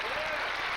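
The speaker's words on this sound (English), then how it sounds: "the crowd gives him a very warm reception for that victory" Warm applause from the audience at a 1995 world 8-ball billiards final, a brief, dense patter of clapping filling the hall.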